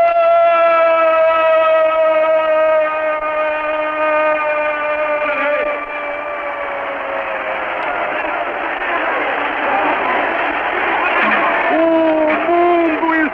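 Maracanã stadium crowd roaring and applauding Pelé's goal on an old 1969 radio broadcast, a dense sustained wash of cheering under steady tonal hum and broadcast noise, swelling toward the end.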